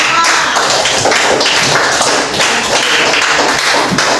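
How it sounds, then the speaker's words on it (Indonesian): A loud burst of applause from a group, dense and continuous clapping filling the whole stretch. "tepuk tangan untuk nomor 3 dan 4"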